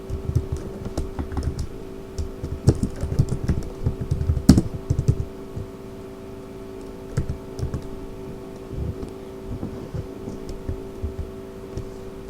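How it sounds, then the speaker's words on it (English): Keys clatter on a computer keyboard as a terminal command is typed, quick irregular taps in bursts with short pauses, close and clear. "I'm typing this command."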